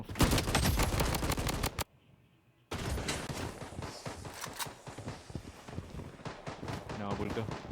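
Rapid automatic gunfire in the shooter game BloodStrike rattles in dense bursts, breaks off for a short near-silent pause, then resumes in bursts and scattered shots, with players' voices talking over the shooting.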